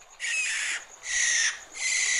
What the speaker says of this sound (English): It's the barn owl. It sounds like it's in trouble.